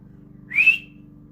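A single short whistle blast serving as a start signal, rising briefly to a clear bright tone over a low steady background hum, near and fairly loud, without any talking.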